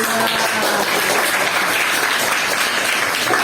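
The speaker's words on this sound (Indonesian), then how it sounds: "Kasih tepuk tangan untuk kelompok 5." Loud, dense applause from a class of trainee teachers clapping for group 5. The clapping is close and sustained throughout with no break.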